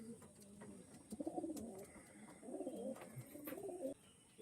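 Pigeons cooing softly in repeated low throaty phrases, faint and fairly close, with small chirps and quiet background noise.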